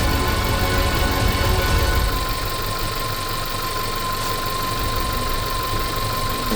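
A swapped engine in a VW Polo idling roughly, a loud steady mechanical drone with a low throbbing unevenness, close by and with no talk.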